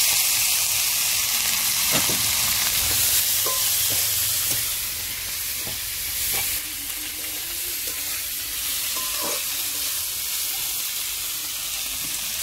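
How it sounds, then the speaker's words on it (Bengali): Spring onion stalks frying with green chillies in a wok for a village-style fish curry, a bright continuous sizzle and hiss with occasional utensil taps and scrapes, close and without talk. "এদিকে পেঁয়াজ কালিগুলো ভাজা হচ্ছে"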